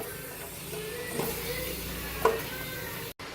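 Onions fry in oil for mutton dum biryani, a low steady sizzle with a couple of soft spoon scrapes and knocks against the pan, heard close and moderately loud.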